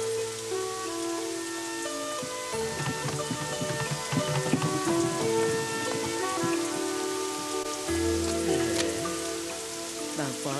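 Steady rain pours throughout, with a broad constant hiss of drops on surfaces beneath layered, tonal background music in a period drama scene; no voices.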